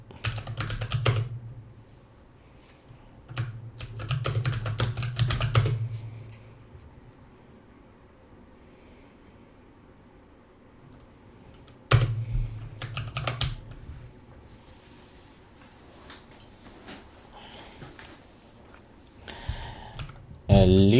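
Typing a command on a computer keyboard, several bursts of rapid key clicks separated by quiet pauses, close up and fairly soft, with occasional speech in the background.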